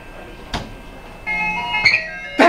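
An ice cream truck's jingle plays at a distance, with tinkly melodic tones entering partway through and continuing to the end over faint background noise, no talk.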